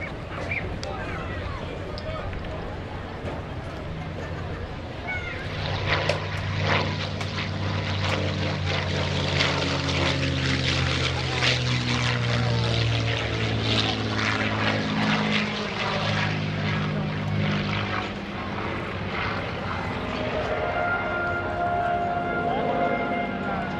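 A P-51D Mustang with a Packard-built Rolls-Royce Merlin engine roars loudly and steadily overhead at an airshow, its engine drone swelling and holding for the whole stretch.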